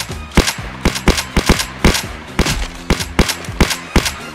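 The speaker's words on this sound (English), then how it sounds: "He's shooting, I can see that." Video game gunfire rattles out in a steady run of sharp, loud shots, fired singly and in short bursts about every half second, with no voices.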